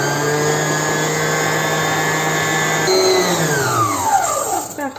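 An electric hand mixer whirs steadily through cookie batter with melted chocolate and butter, a continuous motor hum that shifts pitch midway and winds down near the end.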